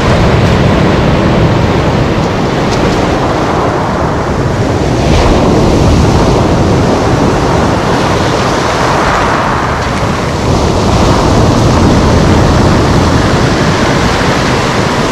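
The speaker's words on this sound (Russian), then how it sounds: "Сейчас убегать будем от большой волны." Sea waves break continuously and loudly on a beach at Lazarevskoye near Sochi in the evening, a steady wash of surf with wind rumbling across the microphone and no voices.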